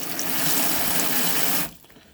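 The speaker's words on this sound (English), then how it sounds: "you'd open all the taps up on the hot side with the water pump turned off" Water gushes steadily from an open hot tap in a 2017 Lunar Conquest 352 Ariva motorhome with the water pump off, a loud close hiss that cuts off abruptly near the end, leaving quiet.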